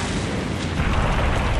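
Cannon blast in the Piofiore visual novel game: a loud, dense, sustained roaring rumble of explosion noise filling the whole clip without a break.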